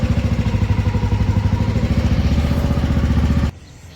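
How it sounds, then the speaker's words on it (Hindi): A motorcycle engine idles with a fast, even chugging pulse, close and fairly loud, then cuts off abruptly just before the end. No one speaks. "गाड़ी को करते हैं स्टार्ट, बाइक को स्टार्ट करते हैं और चलते हैं सीधा।"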